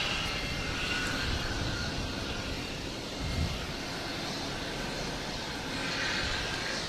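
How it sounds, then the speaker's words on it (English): A JetBlue jet airliner arrives at Boston Logan Airport with a steady, broad engine roar. The sound is sustained and moderately distant, with a slight swell near the end. "that JetBlue just came in"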